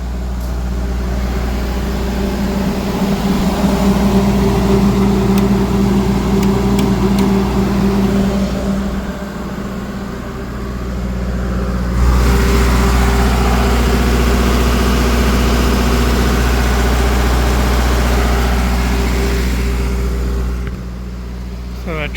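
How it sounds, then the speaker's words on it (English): A 40 kilowatt generator runs steadily under a 20 kilowatt load, its engine drone constant and close with a low mechanical hum throughout, while a person talks over it for much of the time. "I'm going to put a 20 kilowatt load on this 40 kilowatt generator"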